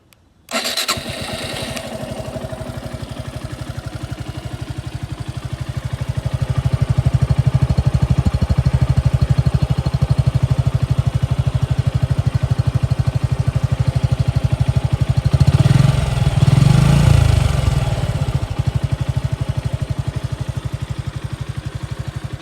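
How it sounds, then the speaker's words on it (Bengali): A 2023 Suzuki Gixxer SF FI ABS motorcycle with about 5,500 km and its stock exhaust starts with a short crank, then settles into a steady idle. The engine grows a little louder and holds there, with a brief blip of revs partway through. "চলুন এখন গাড়ির সাউন্ডটা একটু শোনাই আপনাদেরকে, ইঞ্জিনের সাউন্ডটা এখন কি অবস্থায় আছে"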